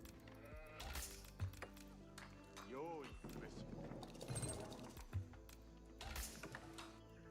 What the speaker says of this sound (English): I think I saw a sheep over there